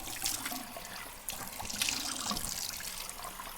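Tap water runs and splashes steadily while a face is rinsed at a sink, with soft irregular spatters close by and no talking.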